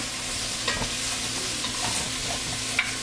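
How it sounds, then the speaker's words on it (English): Carrots and root vegetables sweat in a pot for soup, giving a steady close sizzle with occasional stirring scrapes and no talk. "What the sweating is going to do is caramelize the carrots, really bring out the natural sugars that carrots and root vegetables have"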